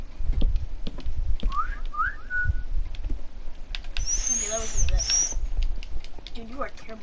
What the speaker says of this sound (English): you are terrible at whistling